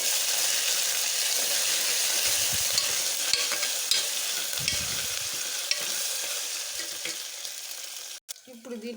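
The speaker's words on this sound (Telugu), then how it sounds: "ఇప్పుడు దీంట్లో అల్లం వెల్లుల్లి పేస్ట్ పచ్చి వాసన పోయేంత వేయించుకోవాలి" Ginger garlic paste fries with onions in a pan for mutton curry, giving a steady, close sizzle with occasional stirring scrapes that cuts out briefly near the end.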